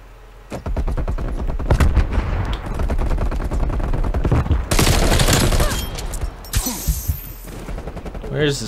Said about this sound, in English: Where is this guy shooting from?